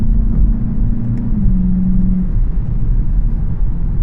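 A Volkswagen GLI's engine pulls hard on a road, heard from inside the car as a loud, steady, deep rumble with a droning tone that shifts down partway through, with no voices.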